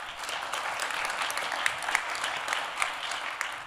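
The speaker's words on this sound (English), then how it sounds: "Nice warm applause for him." Warm applause from an audience at a cruise awards ceremony, a soft, even wash of many hands clapping at a moderate distance, with a few sharper claps standing out.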